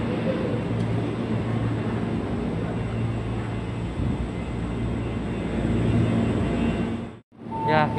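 An electric KRL Commuter Line train in new livery rumbles past nearby with a steady mechanical drone, then cuts off abruptly near the end as a brief rising tone sounds.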